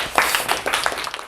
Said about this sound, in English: All right, round of applause for TJ.